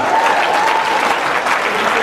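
Audience applause at a comedy performance, a dense, loud burst of clapping from a crowd that holds steady from start to finish.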